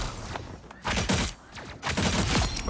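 Rapid bursts of gunfire in the Marvel Rivals hero shooter, loud volleys of shots in two clusters separated by a short lull, layered with game effects.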